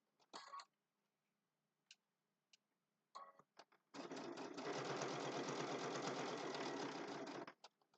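A sewing machine stitches across a triangle zipper bag, with a few short bursts and clicks before a steady, loud run of fast rhythmic stitching lasting several seconds, close up.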